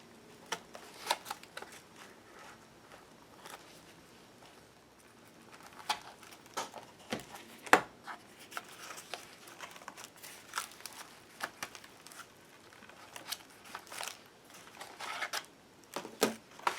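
Scissors cutting paper pages for a handmade pocket craft, a long run of close, quiet snips and papery crinkles at an uneven rhythm, with brief rustles between cuts and no talking.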